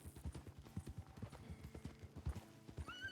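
A big horse's hooves clip-clop at a steady, close walking rhythm, with a brief high whinny-like tone near the end.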